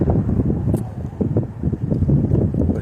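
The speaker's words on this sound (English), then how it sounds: "very windy out" Strong outdoor wind buffets the microphone with gusty low rumbling and fluctuating roar, continuous throughout, at a park where soccer is being played.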